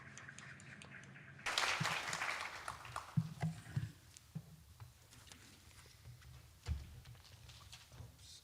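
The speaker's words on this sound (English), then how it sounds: "Please welcome with a big round of applause" An audience in a Tokyo lecture hall at a Kavli Prize laureate event breaks into applause that starts suddenly, peaks as a crackling burst of claps, then thins into scattered clapping heard from a distance.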